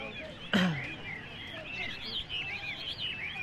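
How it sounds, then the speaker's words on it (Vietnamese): Caged hwamei songbirds sing at a busy mountain market, with varied chirps and trills layered over crowd murmur and one loud bump near the start. "Để cho nó gọi bạn, nó có bầy, có bạn ấy, để nó thi nhau nó hót."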